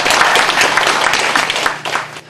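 An audience at a farmers' training lecture claps to welcome the speaker, a dense burst of applause that fades toward the end.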